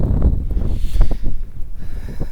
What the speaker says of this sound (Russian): Сильный ветер. Очень сильный ветер.